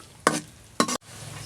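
Boiled eggs fried in oil in a pan for an egg and onion curry, with two distinct scraping stirs of a spoon against the pan over a low, steady sizzle.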